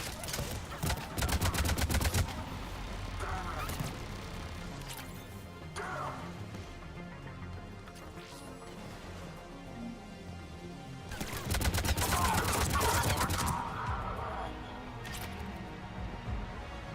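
Gunfire in Mass Effect 3 Legendary Edition: bursts of rapid automatic shots crackling loudly at the start and again later, with scattered single impacts and combat noise between them.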